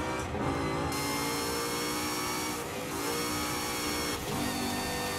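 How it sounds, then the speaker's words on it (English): Supercharged Ford Raptor R engine in the video game Forza Horizon 5, revving hard with a loud, harmonic-rich roar and supercharger whine, sustained throughout with brief dips between gear shifts, heard alone without talk. "Supercharger sounds nuts."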